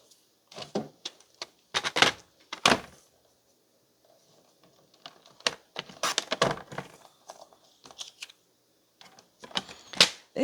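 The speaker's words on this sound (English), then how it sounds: "We'll be cutting off the majority of that green. I'll cut it there." Scissors snipping through a piece of paper during a scrapbooking craft session, a series of short crisp cuts in separate bursts with quiet pauses between them, close and fairly loud, with no talking.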